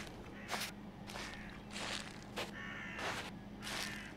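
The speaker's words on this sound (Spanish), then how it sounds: "No me gusta que esos pájaros vuelen desde esa dirección." Several bursts of bird wing flaps, like birds taking off in the video game Sir, You Are Being Hunted, repeat at irregular intervals over a low steady hum.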